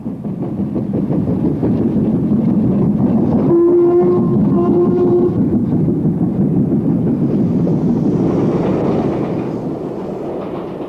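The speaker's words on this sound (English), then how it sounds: "The leading train comes past the box as the signalman looks out" A train with bankers rumbles steadily past a signal box close by, with a brief horn-like tone midway and wheel clatter fading slightly toward the end.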